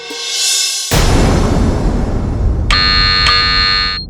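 A quiz-style buzzer pressed on a televised musical game show blares a loud, harsh electronic tone twice, with a burst of broad, noisy studio sound filling the gaps.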